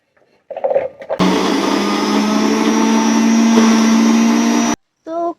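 An electric mixer grinder in a home kitchen in Solan, Himachal Pradesh, grinds garlic with a loud, steady motor roar for about three and a half seconds. Brief voices and handling sounds come just before and after it.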